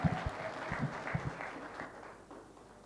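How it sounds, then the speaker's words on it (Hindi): An audience applauds at a leadership seminar, a short burst of scattered claps fading quickly into quiet room tone, moderately distant. "अभी जैसे इनके लिए ताली बजी"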